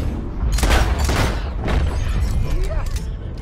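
Gunfire rings out on a theatre stage, a few heavy booming shots in quick succession over a rumbling, noisy background, with voices mixed in.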